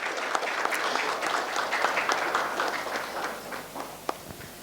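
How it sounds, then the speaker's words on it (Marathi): An audience at a book launch event applauds steadily, a dense, even wash of many hands clapping that holds for several seconds before thinning out. "जोरदार एकदा टाळ्या होऊन जाऊ दे"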